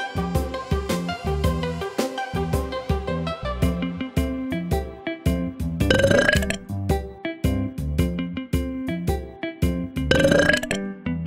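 Two loud cartoon burps erupt a few seconds apart over bouncy, steady background music in a children's educational cartoon about human sounds.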